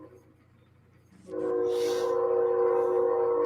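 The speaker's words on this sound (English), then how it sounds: "I hear the train coming." A train approaching from a distance: a low rumble that swells after a quiet start into a steady, sustained horn-like drone, with a brief hissy burst in the middle.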